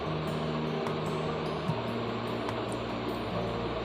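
A sewing machine runs steadily while stitching a suit seam from the reverse side, a continuous close mechanical whir with a faint rhythmic ticking and no talk.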